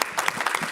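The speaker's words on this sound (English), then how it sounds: "So let's give Joe's a round of applause." Brief burst of applause at a city council meeting, a small crowd clapping scattered and moderately loud for under a second.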